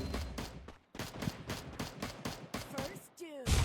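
Gunfire in the mobile battle royale game Free Fire Max, a run of sharp repeated shots in quick bursts with brief gaps, fairly quiet overall, followed by a sweeping effect at the end.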